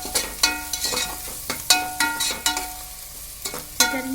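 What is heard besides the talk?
frying cabbage and dal curry ingredients in a pan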